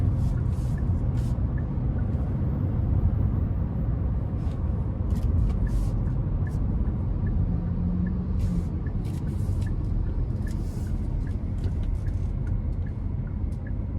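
A 2025 Hyundai Kona SEL Convenience with the 2.0 engine accelerating in sport mode onto an interstate, heard from inside as a steady, loud low engine and road rumble with faint higher clicks.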